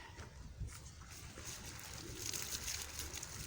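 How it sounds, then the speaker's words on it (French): Water is poured over escarole seedlings and the plants next to them. It makes a steady, close trickle and patter that swells toward the end, with no speech. "Voilà, et en même temps on arrose les autres."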